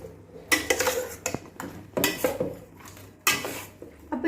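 Chicken marinade mixed by hand in a bowl, irregular clinks and scrapes of a spoon against the dish with short pauses between them, close and moderately quiet, with no voices.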